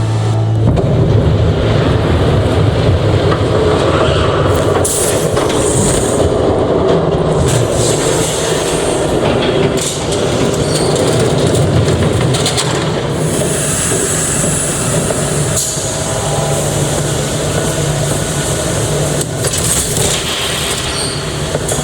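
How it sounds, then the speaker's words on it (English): A train in the Batman The Telltale Series game thunders past close by, a loud, continuous rumble with rattling wheels and metallic squeals sustained throughout, without talk. "There's a train coming."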